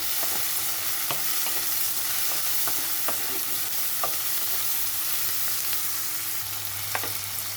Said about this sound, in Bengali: একটু নেড়ে চেড়ে